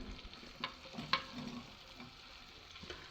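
Cubed onions and capsicum frying in a pan, giving a low, steady sizzle with a few sharp clinks and stirring scrapes, heard close and alone.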